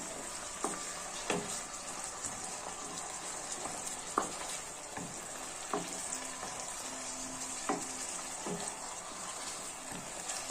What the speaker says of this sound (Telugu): ఉల్లిగడ్డ బాగా కలుపుకోండి